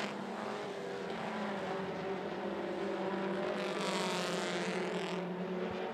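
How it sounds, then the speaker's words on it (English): Mini stock race cars roar together around 411 Motor Speedway, a steady blended engine drone at moderate distance that swells slightly as the pack passes, with no talking heard over it. "Riding along the upper groove, it's the 7 of Robert Burris, now being nudged by the 41 of Michael Courtney"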